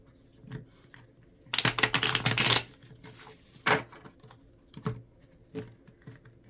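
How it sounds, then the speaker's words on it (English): Angel number cards are handled and shuffled close by. Soft scattered taps are followed by a dense, riffling flurry of card sounds, then a few separate flicks and slaps in a quiet room. "I'm going to pull a couple angel number cards"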